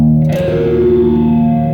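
Electric guitar chord through a Boss PH-3 phaser pedal in fall mode, the sweep gliding from high to low as the distorted chord rings out loud and sustained with a swirling, reverberant tail.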